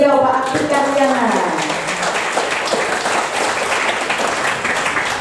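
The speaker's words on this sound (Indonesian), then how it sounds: "Tepuk tangan untuk beliau, Pak Apik Karyana." Applause rises from the audience at an Indonesian university coffee talk on environmental leadership, entering as the host's voice trails off at the start, then a loud, steady crowd clapping fills the rest of the clip.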